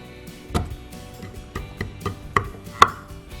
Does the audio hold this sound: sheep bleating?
no